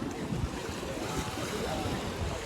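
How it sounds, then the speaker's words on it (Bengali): Strong high-tide sea waves beside Haji Ali Dargah in Mumbai make a constant roaring wash with gusty wind buffeting the microphone, loud and close throughout with no clear breaks. "ঢেউ দেখতে পাচ্ছ তোমরা, মারাত্মক ঢেউ হচ্ছে"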